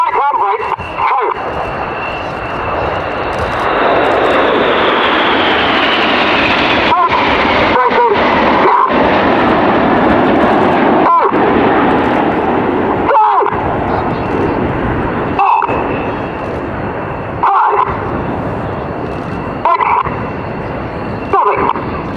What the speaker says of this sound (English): you'll hear them break sequentially, reds 1 through 9 and then 11 at 2-second intervals, pulling 6G